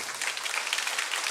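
A church congregation at a Baptist service applauds a couple standing before them, steady dense clapping close and even, with no talk over it.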